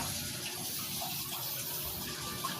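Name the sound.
water filling a drum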